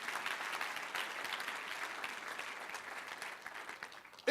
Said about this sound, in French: Est-ce qu'on peut les applaudir quand même?